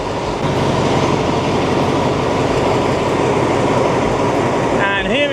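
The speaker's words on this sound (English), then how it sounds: "And here is the train that brought us here, perfectly on time." Passenger train at Hua Hin Station, Thailand, a loud, steady rumble of rolling carriages close by, with a brief squeal near the end.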